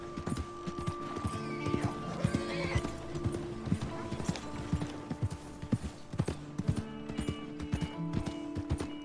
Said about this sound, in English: O cavalo não é meu, né, mano?